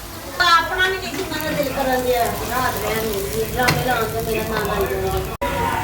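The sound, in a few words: onions frying in hot ghee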